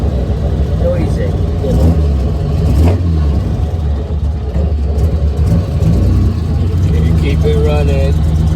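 A restored Jaguar E-Type 2+2 engine runs loudly up close, a dense rumbling idle that swells with blips of revving, while people talk over it.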